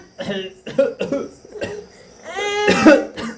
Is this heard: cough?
yes